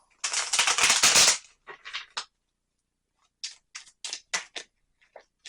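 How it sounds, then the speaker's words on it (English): An emoji card deck is shuffled close up: first a sustained rapid riffle, then a pause, then a string of separate sharp card flicks and taps, fairly loud, with no talking. "Let's bring out the emoji deck again. And let's shuffle."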